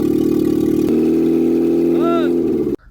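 A Renault Logan engine idles steadily after a full overhaul, a close, even hum with a voice speaking over it before the sound cuts off abruptly near the end.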